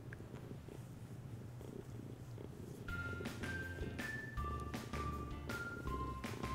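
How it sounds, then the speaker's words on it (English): A cat purrs steadily and close, a soft rumbling drone, while a melodic electronic chime plays in short notes over it. "You can hear him purring."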